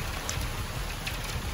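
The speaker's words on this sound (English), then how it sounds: "It's raining, but it's still a beautiful day." Steady rain falls outdoors on a daytime workout spot, a continuous soft hiss with scattered drop patter throughout, no voices.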